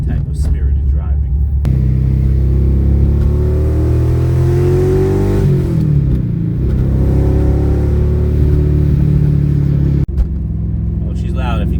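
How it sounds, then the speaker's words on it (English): LS V8-swapped BMW E46 M3 with headers and a straight-piped, custom TIG-welded exhaust revs loudly up and back down, a deep close rumble filling the whole stretch, with a brief cut near the end. "she's straight piped all the way back, headers, and custom TIG welded exhaust"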